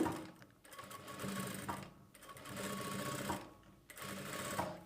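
A sewing machine stitches the side slit of a churidar top in three short runs split by brief pauses, the needle chattering close and quietly.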